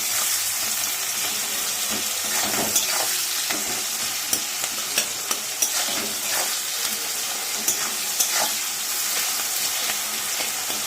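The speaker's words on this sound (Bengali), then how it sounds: "নুন দিয়ে এবার এটা ভালো করে ভেজে নিই।" Salted onions frying in a pan for methi chicken, a steady bright sizzle with repeated scraping and clicking as a spatula stirs them, close and alone.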